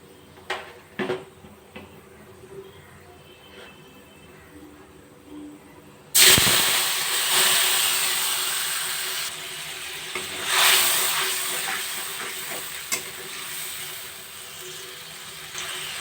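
Ground spice paste dropped into hot oil in a pan already holding whole cumin, cinnamon, cardamom and bay leaf. After a few quiet clinks it bursts into a loud, sustained hiss and sizzle with occasional stirring, close up.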